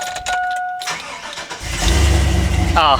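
A GMC Sierra crew cab pickup truck cranks over briefly and catches, its engine settling into a loud, close, rumbling idle for the last second or so.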